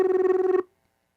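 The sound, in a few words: telephone ringing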